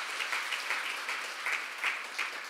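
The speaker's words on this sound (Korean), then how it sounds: "우리 박수 한번 쳐주세요." A church congregation applauds for a missionary from Turkey preparing to plant a church, a dense, fairly soft burst of many hands clapping together for a couple of seconds.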